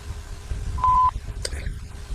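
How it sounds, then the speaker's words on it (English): An answering machine sounds a single clear, steady beep before a message is recorded. The tone is short and prominent, followed by a few faint clicks over quiet line noise. "Record your message after the tone."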